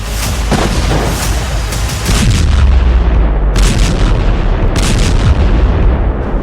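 Loud, dense booming and rumbling from an Israeli air strike on Beirut, with repeated heavy blasts and crackling bursts rolling over a continuous low roar.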